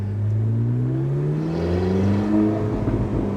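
A Porsche 918 Spyder's racing engine revs up at partial throttle with rising, harmonic-rich tones, loud and close, sustained throughout without any talking.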